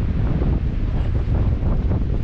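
Strong wind on a lake while canoeing solo in Wabakimi wilderness, a loud, continuous buffeting roar of wind across the microphone with the rush of waves beneath, no voices.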